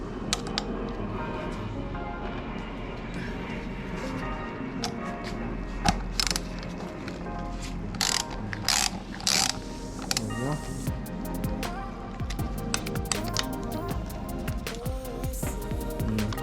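Ratchet clicks while loosening an 8 mm bolt near the clutch on a 2016 Yamaha XSR900 handlebar, a close clicking and metallic clatter in short bursts over a low hum, with faint talk nearby.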